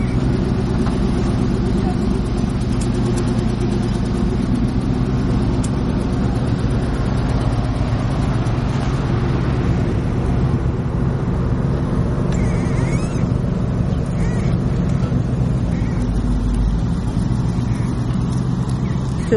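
A car engine drives up a snowy road after grader clearing, with a steady mid-pitched hum and rumble held close throughout, rising slightly under load while someone talks over it.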